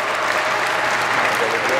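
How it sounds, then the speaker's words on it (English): A crowd at a basketball camp applauds steadily, a dense wash of clapping at a constant level throughout. "Let's clap it up for him."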